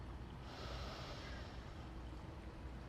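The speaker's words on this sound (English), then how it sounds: "This is called deep breathing with sound." A slow, faint yoga breath drawn through a constricted throat, a soft ocean-like rushing hiss that swells and fades, alone with no talk.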